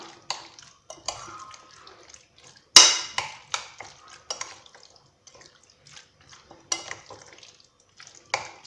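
Chicken being mixed by hand with shawarma marinade ingredients in a bowl: close, intermittent wet squelches and light clinks with short pauses between strokes.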